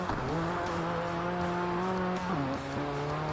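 Car engine in the rally racing game RalliSport Challenge 2 on Xbox, a steady buzzing drone that shifts pitch as the car changes gear, loud and continuous with music mixed in.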